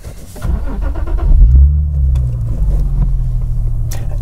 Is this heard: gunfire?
no